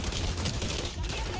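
A quick, dense burst of gunfire in XDefiant, shots rattling off rapidly in a short flurry.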